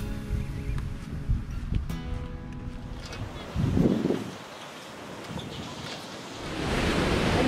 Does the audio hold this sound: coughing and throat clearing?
no